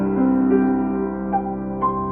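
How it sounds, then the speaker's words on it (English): Sustained musical intervals of octaves and fifths ring out in steady harmonic layers, a few soft new notes entering partway through, clean and alone without talk. "Those are octaves and fifths."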